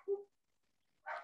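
Dogs barking indoors: a short low woof, then after a pause a sharper higher bark, both brief and close, with no talk.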